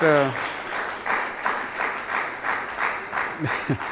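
Steady applause from a crowd, many hands clapping together, with a voice heard briefly at the start and near the end.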